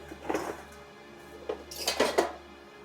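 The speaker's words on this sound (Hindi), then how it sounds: "ये बर्तन धरकाऊं घर में।" Dishes, pots and pans clatter as they are put away at a rural Haryana home, with a few separate bursts of metallic clinking and knocking at close range and no talk.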